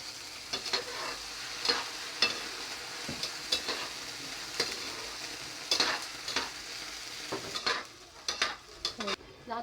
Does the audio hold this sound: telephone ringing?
no